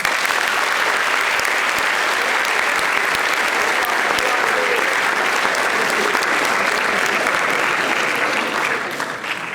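An audience at Godinez Fundamental High School applauds steadily to welcome author Reyna Grande, loud, dense clapping from a large crowd that holds evenly before tapering slightly at the end.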